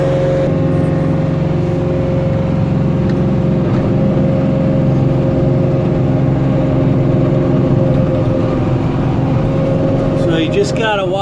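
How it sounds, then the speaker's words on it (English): A Kioti NX6010 tractor with a tiller works rough, root-filled ground, producing a loud, steady engine drone that holds close and constant for the whole stretch. "when you're tilling ground this rough, you really got to pay attention to the tiller and listen"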